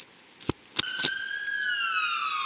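Emergency vehicle siren wailing outdoors in a residential front yard, rising and falling in a steady sweep after a few sharp knocks, fairly distant but clear and sustained.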